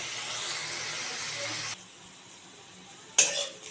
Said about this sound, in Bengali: এবার আমি এর মধ্যে দিয়ে দেবো কুচি করে কেটে রাখা খাসির মাংসের চর্বিগুলো।